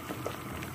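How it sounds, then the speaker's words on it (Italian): Carrots simmer in a pot of boiling water, a soft steady bubbling hiss that stays faint and continuous through the moment with no voices. "Così li facciamo bollire."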